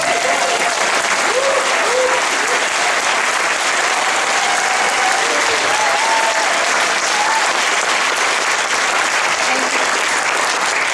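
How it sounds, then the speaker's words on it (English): An audience gives the filmmakers a round of applause after a film screening and discussion: dense, continuous clapping from a crowd for about eleven seconds, with faint voices and a few whoops scattered through it. "I really would like to ask the audience to give them another round of applause"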